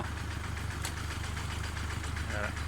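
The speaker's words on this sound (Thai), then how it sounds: "เอา วีโก้ มาสูบน้ำนา" Toyota Vigo pickup engine idling steadily while pumping water into a rice field, a low, even rumble with faint knocking, close and continuous throughout.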